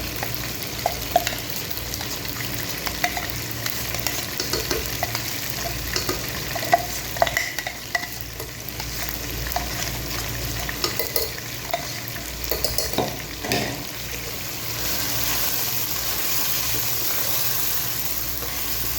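Onion-coconut paste fries and is stirred in a pot for mutton handi, a dense steady sizzle with frequent scraping and clicking from the spoon, close and continuous throughout.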